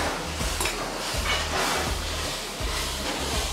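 Spices for dal tempering crackle and sizzle in hot oil at a busy Amritsari street food kitchen, a dense continuous hiss with rhythmic low clattering underneath, loud and close.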